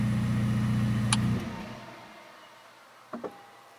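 A 2021 Ferrari SF90 Stradale engine idles with a low rumble, then cuts off via the engine stop button and dies away into near silence, followed by two soft clicks.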